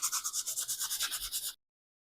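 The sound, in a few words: sanding a drilled piece with sandpaper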